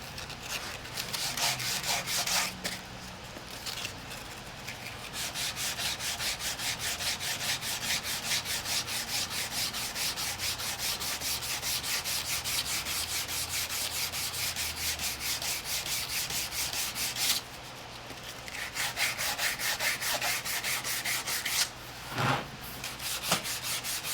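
Rapid, rhythmic scraping of sandpaper rubbed back and forth across saddle leather, sanding off fuzz, close and continuous with a couple of brief pauses.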